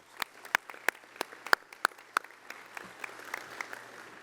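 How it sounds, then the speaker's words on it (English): An audience at a veterans' organization business session gives a round of applause, a few sharp near claps over a thinner spread of clapping that fades out, with no talking. "Let's give her another round of applause."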